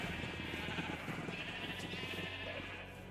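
A Minecraft sheep bleats over steady game background sound. The wavering bleats are clear and close, and nobody speaks.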